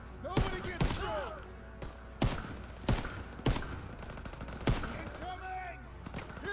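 A WWII machine gun and other gunfire in the Call of Duty: WWII campaign, heard as sharp, loud shots spaced irregularly with short pauses between bursts and shouted voices in between.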